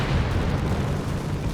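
Mortar fire in the World War II strategy game Company of Heroes 3, heard as a dense, continuous low rumble of battlefield explosions with no distinct single blasts standing out, sustained and fairly loud throughout.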